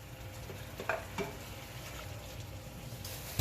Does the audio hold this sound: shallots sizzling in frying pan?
yes